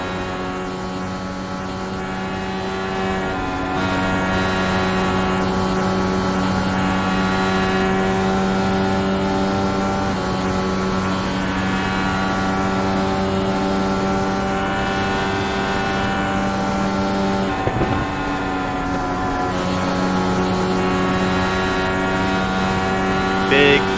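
An IndyCar engine screams onboard at Indianapolis Motor Speedway in iRacing, a loud, sustained high-revving drone that holds nearly flat for the whole lap stretch, with only a brief dip in pitch partway through.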